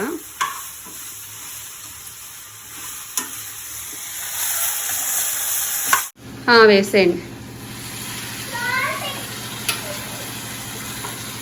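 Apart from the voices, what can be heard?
water poured into frying tomatoes and tamarind with turmeric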